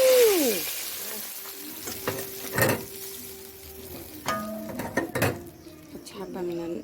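Food frying in a pan outdoors, a steady low sizzle with clinks of utensils against the pan and a few scraping stirs, while people chat nearby.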